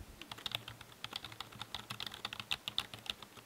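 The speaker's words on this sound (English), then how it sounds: "They sound really nice as well. So like when you're typing, if you can hear this" Quick, soft clacking of a SteelSeries Apex membrane keyboard being typed on in an irregular run, close and quiet, with no talking.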